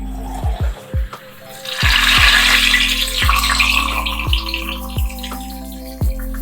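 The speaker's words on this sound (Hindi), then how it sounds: "अब हम इसको हमारे बाउल में हम तड़का लगाएंगे।" Hot tadka of garlic and cumin poured into a bowl of cooked masoor dal, giving a loud, steady sizzling hiss that swells and then slowly fades over a few seconds, with a rhythmic music bed underneath.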